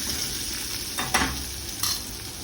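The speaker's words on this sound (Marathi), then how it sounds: "यात फोडणीत थोडी कोथिंबीर टाकली आहे मी आणि हे सगळं छान परतून घ्यायचं आहे" Ivy gourd and coriander sauté in a hot tempering, with a soft steady sizzle and two brief clattering bursts of stirring in the pan; no one speaks.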